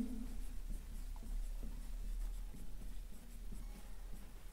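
Quiet chalk or marker strokes on a board during a maths class, soft scratchy writing sounds in short irregular bursts over a low steady room hum.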